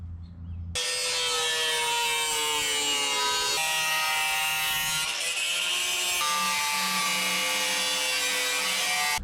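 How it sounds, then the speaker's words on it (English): Metal patch panel being cut out for a 1976 GMC truck with a power tool, a loud, steady high-pitched cutting whine running continuously and close up, its pitch shifting slightly as the load changes. "I'm actually just gonna cut this out of our patch panel here"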